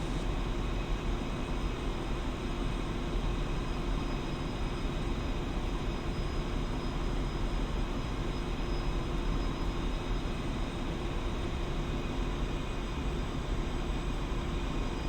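A Su-25T jet taxis in the DCS World flight simulator. A steady, loud engine roar and whine holds unchanged throughout, with no voices.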